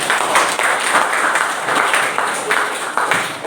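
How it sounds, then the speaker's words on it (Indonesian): Students in an Indonesian school classroom clap for classmates at the end of a lesson, a steady, dense wash of hand claps lasting a few seconds. "Baik, tepuk tangan untuk Rafa dan Nusi."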